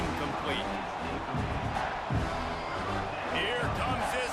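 Home stadium crowd roaring in the video game College Football 26, a dense continuous wash of cheering and noise that swells slightly, steady and loud throughout, with a thud or two underneath.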